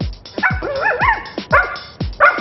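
A trained security dog barks sharply on command during a handler training session, a close, loud series of four or five distinct barks spaced unevenly with brief pauses between them.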